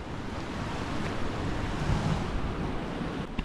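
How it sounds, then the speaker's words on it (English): River water rushes over rocks in a steady, broad wash, loud and close with a windy, surf-like roar and no speech over it. "Let's check down the river."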